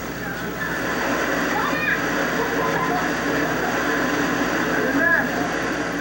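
Tinago Falls in Iligan City roars as a steady, full rush of falling water, close and constant throughout, with voices faintly mixed in.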